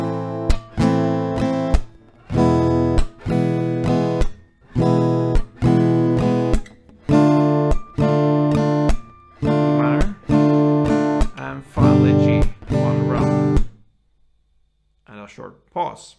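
Acoustic guitar strumming the chord progression of a song, two rounds per chord and one on the final G, in repeated rhythmic bursts with brief gaps, ending with a short pause and a faint final strum.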